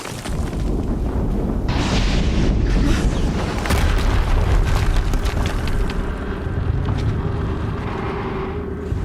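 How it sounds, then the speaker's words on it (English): A massive explosion in Horizon Zero Dawn roars continuously for several seconds, a loud, dense rumbling blast with crackling debris and rolling low boom that slowly thins toward the end, with no voices. "Another explosion."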